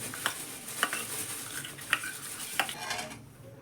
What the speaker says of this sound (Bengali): এক চামচ সুজি দিয়েছি এক চামচ চালের গুঁড়ো দিলাম দিয়ে এটা মিক্স করে রেখে দেবো